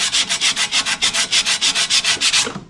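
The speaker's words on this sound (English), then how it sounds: "Then I'm gonna sand it" Sandpaper is worked back and forth over the old gasket on a 1965 Mustang exhaust header. About fifteen even, close, raspy strokes come in a fast steady rhythm, with no voices.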